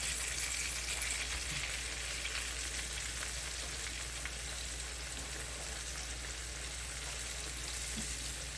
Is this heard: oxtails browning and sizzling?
yes